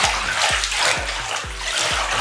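Water sloshes and splashes in a tank as waves are generated, surging in a steady rhythm of about five broad swells, close and fairly loud with no talking.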